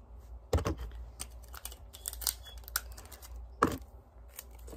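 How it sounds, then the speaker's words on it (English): Clear tape being pulled, torn and pressed to fix a toothpick onto a paper Christmas tree craft, with a few sharp crackling rips and scattered soft taps close by, no talking. "Tape the toothpick on the bottom."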